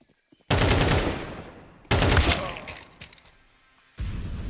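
Three sharp, loud reports from a Desert Eagle pistol in a video game, each a hard crack followed by a decaying echo, spaced about one and a half to two seconds apart with no speech.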